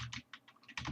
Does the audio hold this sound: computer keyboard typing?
yes